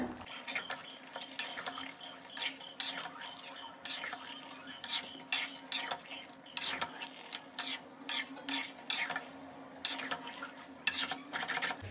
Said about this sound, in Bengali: এখন এগুলো সব ভালো করে মিশিয়ে নেব।